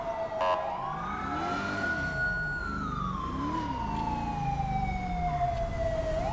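Police car siren in GTA 5, wailing loud and close through the whole stretch, its pitch sweeping up and down in long slow glides with a low engine rumble beneath.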